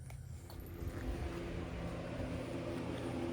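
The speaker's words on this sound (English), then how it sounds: "Hopefully the sound of my heater isn't too bad" A space heater runs in a garage with a steady low rumbling hum and whir, close and constant with no talking.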